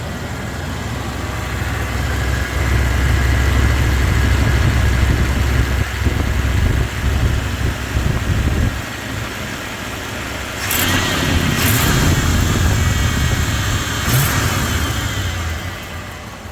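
A budget farm service truck's quiet engine idles with a steady low rumble throughout, easing off briefly in the middle before settling back, with a few faint clicks toward the end.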